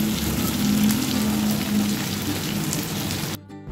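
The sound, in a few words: frying boiled potatoes in a pan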